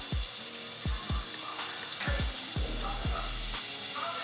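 Shrimp sizzle steadily in a skillet, a continuous bright frying hiss punctuated by repeated low knocks and thumps of handling, heard up close without talk.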